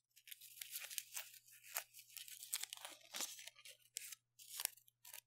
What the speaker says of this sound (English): with aluminium, things like that. It's never quite the same once you unwrap it.